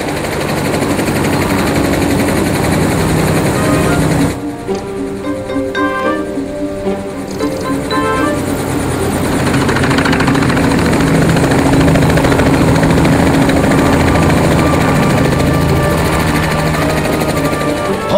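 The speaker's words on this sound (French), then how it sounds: "Tourne la clé et active les moteurs" Engines run at a loud, steady drone, with a brief dip and sputter before the noise builds back up into a continuous roar.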